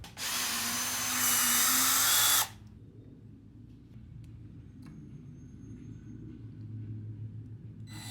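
A power screwdriver whines loud and steady for about two and a half seconds as it backs out screws from a 3D-printed mower part, then cuts off, leaving a low room rumble.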